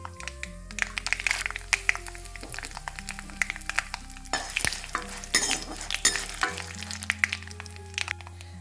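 Dry red chillies dropped into hot oil with browned chana dal and urad dal for a tamarind chutney, crackling and sizzling steadily while a utensil stirs and scrapes the pan, close and alone with no talk.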